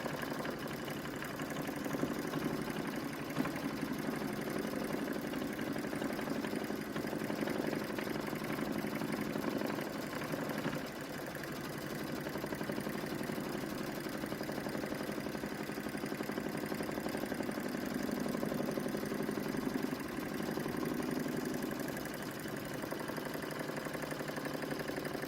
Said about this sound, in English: It's going to do the 2 running stitches, and that's going to hold the poly in there.